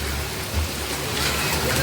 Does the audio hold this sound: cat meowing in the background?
no